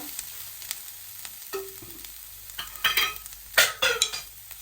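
Mutton pieces fry with turmeric in a pan for mutton sukka, giving a soft background sizzle broken by several sharp stirring scrapes and clinks, some louder near the end, with no voices.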